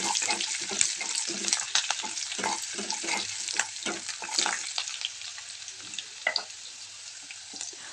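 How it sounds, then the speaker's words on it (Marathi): Onion frying with cumin and mustard seeds for a dry spinach dish, a steady loud sizzle with frequent scraping stirs of a spoon against the pan, close by and with no talk. "त्यामध्ये कांदा ॲड केला कांदा छान तळून घ्यायचा आहे"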